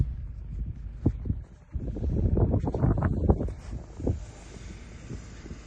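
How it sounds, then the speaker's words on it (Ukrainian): A Kia Sorento engine revs off-road in winter snow, a low rumbling roar that dips briefly, then swells under load and fades back, with wind buffeting the microphone. "ну, я газую"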